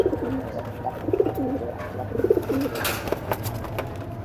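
A pigeon coos softly nearby in low, repeated rolling phrases, with faint background noise and no talking.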